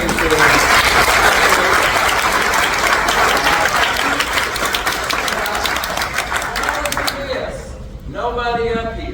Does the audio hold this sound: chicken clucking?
no